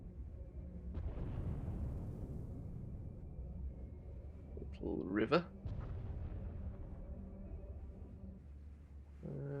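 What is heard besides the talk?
explosions in Star Wars: The Old Republic video game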